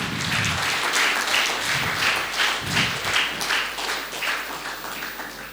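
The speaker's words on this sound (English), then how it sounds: "Can we have a big round of applause, everyone?" Sustained audience applause at a TEDx talk on campus during the felicitation of the speaker, dense and steady clapping from a large crowd filling the whole stretch without pause.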